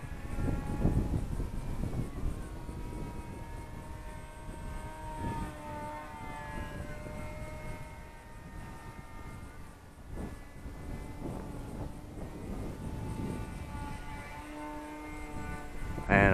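Eachine and ATOMRC Seal Wing G1500 FPV glider flying in wind, with an 1100mm wingspan: a steady electric motor and propeller drone runs throughout at moderate level, rising and falling slightly with the flight, with no talk.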